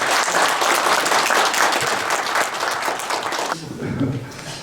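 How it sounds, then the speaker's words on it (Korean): Audience gives a dense, sustained round of applause to welcome a speaker to the stage at a lecture on Korean peninsula security, loud and close, fading out near the end as a voice and murmur begin. "김태호 박사님을 큰 박수로 모시겠습니다"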